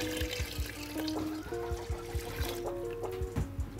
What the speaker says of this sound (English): Add in the coconut juice now